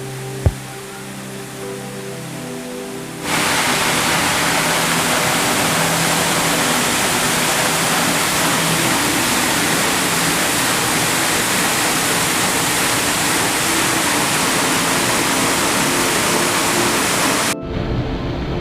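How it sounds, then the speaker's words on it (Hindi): A waterfall roars continuously nearby, falling into a pool below, a dense steady rush of water that begins after a few quiet seconds and cuts off near the end. "नीचे अमृत कुंड जिसमें झरना गिर रहा है"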